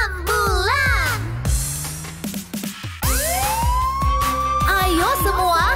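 An ambulance siren wails in a children's cartoon song, rising and falling loudly over musical backing with repeated sweeping tones.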